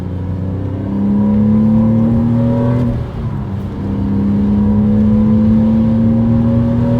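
A Porsche Cayman engine runs loud and close, a steady drone that rises in pitch under revving, dips briefly mid-way, then climbs and holds again.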